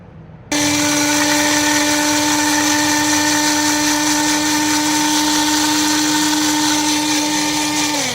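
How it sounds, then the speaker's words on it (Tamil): An electric blender grinds small onions and garlic with water, a loud steady high whine that kicks in abruptly and holds nearly constant before dipping slightly at the end. "இப்போது பிளெண்ட் பண்ணி எடுத்துக்கலாம்"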